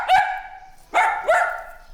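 An imported dog gives three loud, close barks, one and then a quick pair, each sharp and ringing, with quiet between.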